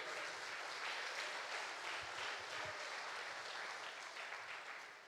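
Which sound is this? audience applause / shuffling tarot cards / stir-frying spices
audience applause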